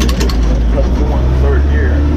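An old Cummins diesel engine runs on a ranch with a loud, steady low rumble throughout, and its throb holds fairly even across the short stretch.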